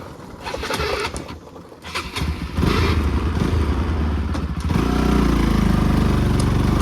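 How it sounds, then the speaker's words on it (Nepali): A motorcycle is started with a few sputtering tries, then the engine catches and runs close by, settling into a louder, steady rumble. "अब फेरि यहाँबाट फेरि बाइक स्टार्ट गर्नुपर्ने हुन्छ"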